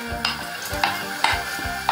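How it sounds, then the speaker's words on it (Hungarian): Onion with celery and carrot frying in olive oil in a pot, a steady close sizzle broken by four evenly spaced scraping stirs. "A hagymát beletesszük a lábasba egy kis olívaolajjal"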